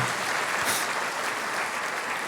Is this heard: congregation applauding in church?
yes